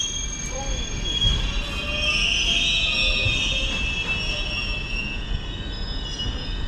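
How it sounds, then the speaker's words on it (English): A train creeps forward a short distance along the Oxford–Banbury line, its wheels squealing steadily in a high, sustained screech over a low rolling rumble, heard close and fairly loud. "just drive a train a few yards up"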